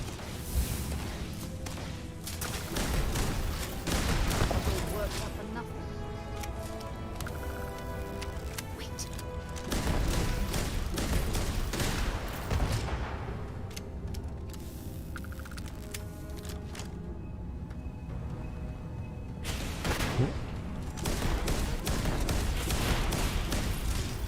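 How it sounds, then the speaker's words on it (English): A weaponized mining turret in Starfield fires bursts of rapid, booming shots in repeated waves, loud and dense, between quieter stretches of game ambience. "Man, the mining turret's been weaponized."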